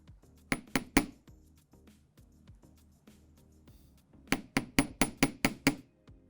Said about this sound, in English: Now when you hammer, the molecules of the metal spread out, causing these little loops to open up a little bit.